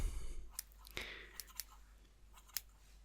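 Scissors snipping a small amount of dry hair from a fringe in a barber setting: a handful of sharp, separate metallic snips, close and quiet, spaced irregularly over a soft hiss.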